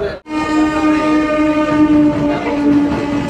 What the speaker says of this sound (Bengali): ট্রেন ঢুকছে এবার দমদম।